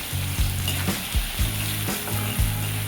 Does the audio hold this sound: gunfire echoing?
no